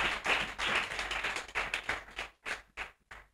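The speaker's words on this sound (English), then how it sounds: "Can we clap for the Lord?" A congregation at a French-speaking church service claps for the Lord, a run of loud overlapping handclaps that thins into a few separate, spaced claps toward the end.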